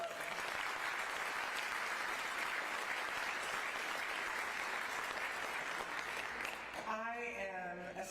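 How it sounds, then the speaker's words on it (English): An audience at a State of the City address held in a Portland school applauds in a dense, sustained wash of clapping, then a speaker's voice comes in near the end. "So please applaud those individuals."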